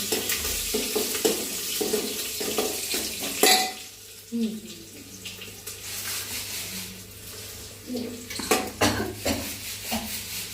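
Oil sizzles and crackles in a pan with bursts of spitting while tempering kadhi, alongside stirring and clinking of utensils; no talking.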